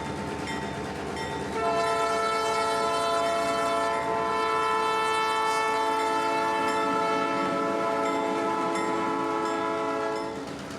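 A Florida Northern Railroad freight train rolls past close by, its rumble swelling before the horn blasts in a long, loud, sustained chord that holds for most of the pass, then fades slightly.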